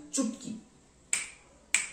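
Crisp finger snaps, three sharp clicks spaced about half a second apart, close and clear, with a faint voice near the first one.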